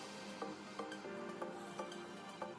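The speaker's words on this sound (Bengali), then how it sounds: "আলুটাতে আমি নুন আর হলুদ মাখিয়ে আলুটাকে ভেজে নিচ্ছি।" Potato pieces coated in salt and turmeric frying in mustard oil in a kadai: a steady, close sizzle broken by light, regular utensil clicks.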